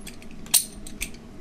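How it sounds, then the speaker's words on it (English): A great big bottle of Mikerphone Brewing Imperial Smells Like Bean Spirit, a pitch-black imperial beer, is opened with one short, sharp hiss of escaping gas, then a softer second puff, close by in a quiet room. "Nice hiss. Very nice hiss."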